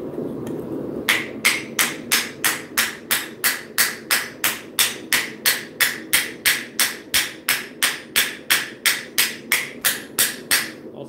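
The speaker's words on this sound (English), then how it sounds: "That ball peen, I'll get some little hammer strikes from it." A small ball peen hammer strikes metal in a steady run of about twenty-five crisp, ringing blows at roughly two per second. The strikes are close and loud over a low background hum.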